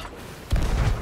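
A ship's cannon fires during a naval battle between a sloop and a galley in the video game Sea of Thieves. One heavy, booming shot lands abruptly over ocean ambience, followed by a brief low rumble.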